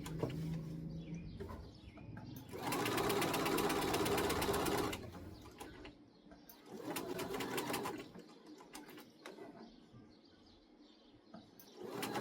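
A sewing machine stitches a seam on a pleated garment in two close, steady bursts, separated and followed by quieter handling noise and light clicks.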